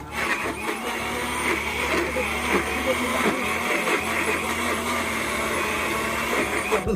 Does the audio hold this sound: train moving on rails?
no